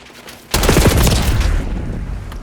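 Hip-fire gunfire from a weapon in Black Ops 6 multiplayer, a loud, close burst of rapid automatic shots that starts abruptly and rattles on for nearly two seconds.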